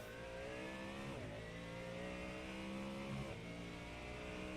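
A GT3 race car engine in a Sebring endurance sim race whines steadily at high revs, shifting pitch twice as it runs on, loud and close without a clear pass-by.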